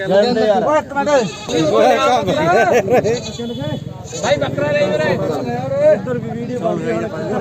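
Goats bleating repeatedly and loudly at a goat market in Bargari, Punjab, the wavering cries overlapping with crowd chatter and people talking nearby.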